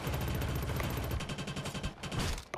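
Rapid automatic gunfire from the video game Killzone Shadow Fall rattles in dense, continuous bursts, loud and close, briefly thinning before resuming.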